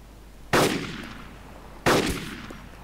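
Two loud DMR rifle gunshots in the video game DayZ, separated by over a second, each a sharp crack with a short fading tail.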